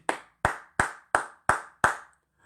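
Six evenly spaced, sharp hand claps at a lively party, each crisp and close, ringing out alone in a slow steady rhythm.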